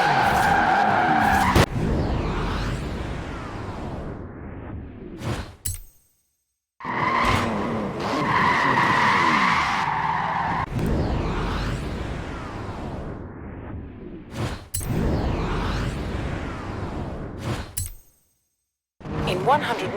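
A street-legal, race-ready car in Forza Horizon 4 drives hard with long, loud tire squeals and skids over a roaring engine, broken by two short silent gaps, with a voice talking over parts of it.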